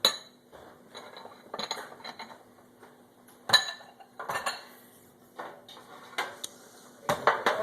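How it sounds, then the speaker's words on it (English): A metal spoon scooping oatmeal walnut cookie dough with cranberries from a bowl, giving scattered clinks and scrapes against the dish with quiet pauses between them. "All I'm going to do is go ahead and spoon up the cookies."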